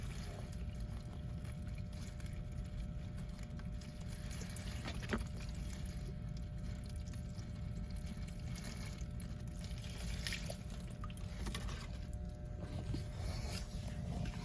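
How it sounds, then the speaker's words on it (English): Water poured onto potted croton plants soaks the soil and drains out of the pots, making a steady, close trickling and gurgling wash with a few faint splashes, and no voices. "you can see that water's flowing"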